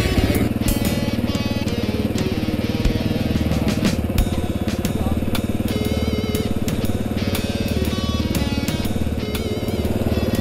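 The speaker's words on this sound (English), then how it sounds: "He's all ready to go, ready to get on the bike. I got the engine started." A motorcycle engine idles and runs close by on a trail ride in Kentucky, a loud steady rumble with a constant mechanical rattle and occasional clinks throughout, with no speech.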